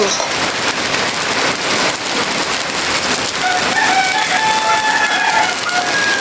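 A rooster crows several times at a moderate distance over steady heavy rain falling on surfaces around a flooded home, with hens clucking faintly among the downpour.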